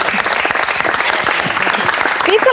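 An audience applauds on a Serbian magazine programme, steady dense clapping filling the whole stretch at close range, with a brief bright whistle or squeal near the end.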